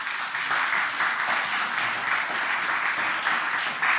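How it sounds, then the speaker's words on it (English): Audience applause at a church conference on the Russian aggression against Ukraine, a steady, dense clapping that fills the hall for the full four seconds without a pause. "So please applause for Horst Langes."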